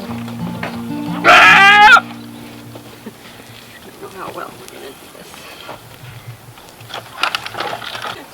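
A goat gives one loud, close bleat during hoof trimming, followed by quieter shuffling, handling noises and faint farm background.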